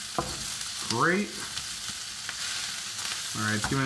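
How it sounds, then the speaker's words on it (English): Loud, continuous sizzling of ground turkey stir fry frying in a hot wok, with brief squeaky rising tones over the hiss. "it's giving us a nice sizzle"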